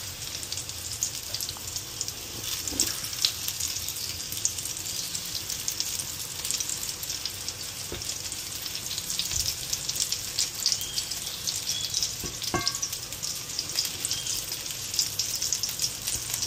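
Tortang talong, an eggplant omelette, frying in a pan: a steady sizzle runs throughout with occasional soft clinks and scrapes, fairly quiet with no talk.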